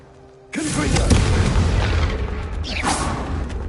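A loud magical blast from the Confringo spell bursts in Hogwarts Legacy, a sudden deep boom that sets off a sustained rumbling roar with crackling debris, while a voice speaks briefly underneath.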